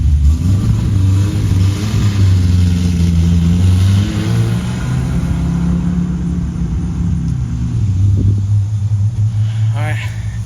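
A V6 Camaro pulls away from a repair shop after an oxygen sensor fix, its engine rumbling loud and close with rising revs that fade slightly as it moves off.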